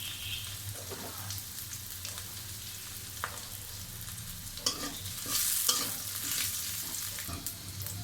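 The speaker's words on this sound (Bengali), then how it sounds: "পেঁয়াজ ভাজা হয়ে গিয়েছে" Onion with whole cumin seeds fries in a pan, giving a soft continuous sizzle broken by the clatter and scrape of stirring, a few sharper knocks and a brief louder burst near the middle, with no voices.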